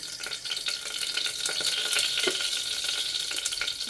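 Hot oil in a pressure cooker crackles and sizzles steadily close up, with sharp little pops of mustard seeds spluttering. No voices.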